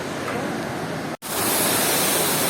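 A roadside waterfall in Rasuwa, Nepal, pours with a steady, dense broadband rush, loud and continuous apart from a brief cut near the middle, with no talk over it.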